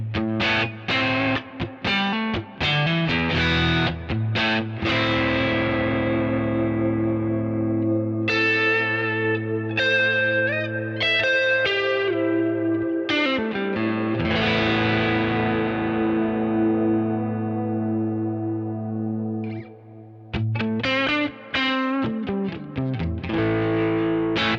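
Ambient electric guitar played through a Kemper with effects that morph from one sound toward a cloud-like texture, chords and notes swelling with chorus and distortion and ringing out in long, washy echo trails, played alone.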